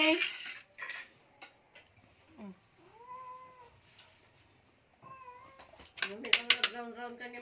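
A cat meows at a hotpot shabu-shabu meal, with several rising and falling cries near the middle and a cluster at the end, among clinking cutlery and dishes, with people talking now and then.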